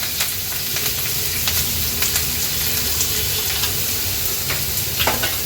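Onion and curry leaves dropped into hot oil already crackling with mustard and cumin seeds for a Marathi kantoli bhaji tempering, giving a loud, steady sizzle with scattered pops and stirring scrapes throughout.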